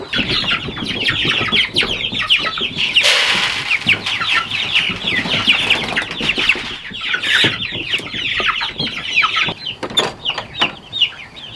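Meat chickens cluck and chatter continuously, many birds close by, with occasional wing flaps and sharper squawks over a busy, steady flock noise.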